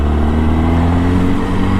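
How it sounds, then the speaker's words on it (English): A 2002 Honda CB900 Hornet motorcycle engine drones loud and steady while the bike is ridden. The engine hum is continuous and close, with no voices over it. "So I'm driving a Honda CB900 Hornet. It's a 2002 model, so it's an old bike"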